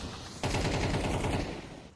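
Rapid bursts of gunfire crack out close and loud in a competitive ESEA Advanced shooter match, a dense volley of shots landing for a headshot with no talk over it.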